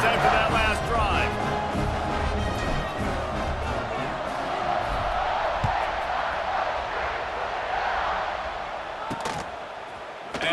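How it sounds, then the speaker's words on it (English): Stadium crowd in the American football video game College Football 26 cheers in a sustained roar after a scoring drive, heard behind the game's audio throughout. "this crowd is feeling themselves after that last drive"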